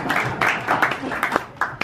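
A crowd at a political campaign kickoff claps and cheers loudly for a select woman from Yarmouth, with bursts of whooping voices over scattered applause, close and lively.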